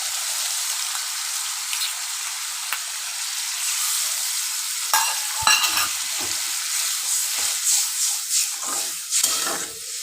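A yogurt mixture hits fried onions in a hot pan and sizzles with a loud, steady hiss, with scattered pops and scraping stirs growing busier toward the end, and no talking.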